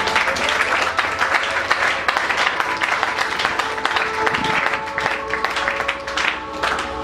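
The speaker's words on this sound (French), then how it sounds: "Est-ce que tu peux acclamer le Seigneur?" A church congregation at a Sunday service applauding and cheering for the Lord, with steady, dense clapping and crowd noise throughout and musical tones sustained underneath.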